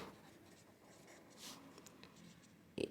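Chalk or marker writing on a board during a class 10 maths lesson on biquadratic equations, faint scratchy strokes spread through the clip, ending with a louder tap or stroke near the end.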